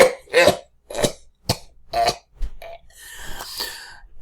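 A person imitates a smoker's cough: a run of five or six sharp, harsh hacking coughs, evenly spaced and close up, ending in a longer raspy, wheezing throat-clearing.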